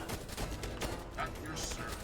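Sniper rifles fire in quick bursts from the front defensive row as a colony is attacked in the strategy game They Are Billions, game audio layered with other battle sounds.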